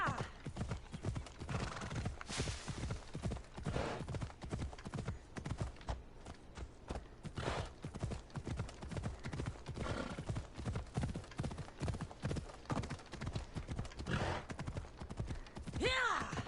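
Rhythmic clip-clop of a horse galloping in Assassin's Creed Odyssey, with fast, even hoofbeats throughout, an occasional whinny, and a voice talking over it at times.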